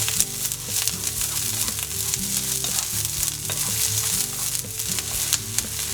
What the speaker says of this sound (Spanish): En una sartén caliente con aceite ponemos la cebolla.